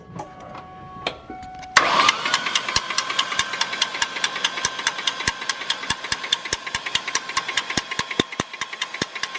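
A Cobra car engine cranks briefly, then catches and runs at a fast, even idle with a sharp regular ticking or knocking pulse throughout, close and fairly loud.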